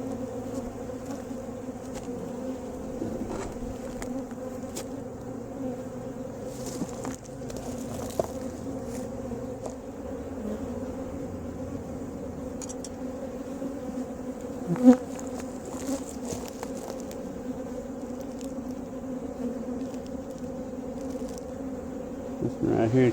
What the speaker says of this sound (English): I believe I would classify that as a strong box of bees.